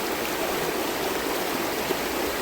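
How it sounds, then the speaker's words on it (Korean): Clear mountain stream in Sindae valley, flowing between Taegisan and Bongboksan in Hoengseong, with a steady, close rush of water that holds even throughout, and no voices. "태기산과 봉복산 사이로 흐르는 청정계곡 신대계곡입니다"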